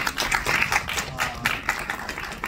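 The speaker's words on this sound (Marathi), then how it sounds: "एकदा माझ्याकडनं सुद्धा खूप जोरदार टाळ्या तुमच्यासाठी" Enthusiastic hand clapping at a Star Pravah television series event: a run of quick, close, sharp claps with an uneven rhythm, carrying on for the whole stretch.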